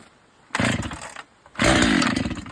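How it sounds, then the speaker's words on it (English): A Husqvarna chainsaw is pull-started on a sub-zero day, two loud close bursts of rough engine roar, each about a second long, separated by a brief quiet gap as the motor catches and dies. "it'll start on the second pull, usually on the third pull."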